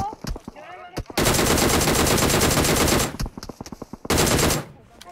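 Automatic rifle fire in a PUBG Mobile match, with scattered single shots and then two long, rapid bursts, close and loud, broken by short pauses and trailing off into a few last shots.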